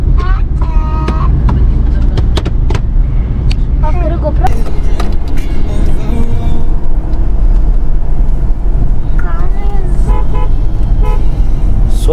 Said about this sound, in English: So much of traffic is there right now.